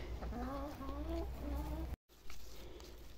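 Hens on a small farm cluck and chatter up close in a short burst of rising calls, followed by a brief cut and quieter ambient rustling.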